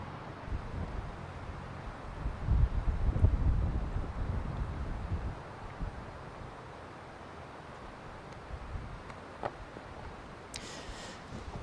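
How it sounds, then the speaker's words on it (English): Gusty wind across a disc golf course, a low rumbling buffet that swells for a few seconds and then eases to a softer, steadier blow. "It feels like the gusts are coming in waves."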